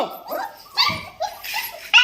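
Hungry puppies, four of them, bark, yip and whimper in several short bursts over about two seconds, close by and fairly loud, with no talking.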